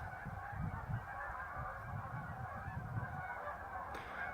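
Canada geese honk repeatedly in an overlapping, irregular chorus during their migration, with steady outdoor background noise underneath.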